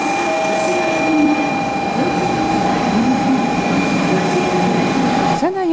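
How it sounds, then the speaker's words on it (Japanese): A Shinkansen 500 series train, running as a Kodama service on the Sanyo Shinkansen, pulls into a station platform. It makes a loud, continuous rolling roar with steady tonal hums and a sharp squeal of wheels as it nears the end. "こうしてこだま948号が入線。"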